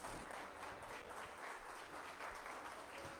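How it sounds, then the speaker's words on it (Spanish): A church congregation claps together in sustained, dense applause, a steady wash of many hands heard from within the room at moderate distance, with no voices over it. "yo le daría aplausos al Señor por los jóvenes de esta iglesia"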